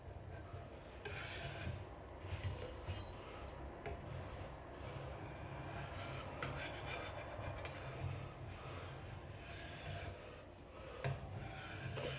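Continuous rasping strokes of a scraper dragged across wood, close and rhythmic, repeating steadily for several seconds without any talking.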